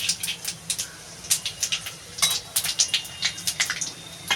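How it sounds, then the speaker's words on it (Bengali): Radhuni and cumin seeds spit and crackle in hot oil for a rohu fish curry with potato and bitter gourd, sharp popping bursts crowding close and loud over a low fry hiss, no voices. "রাঁধুনি আর জিরা দুটোই ফোড়ন দেবো"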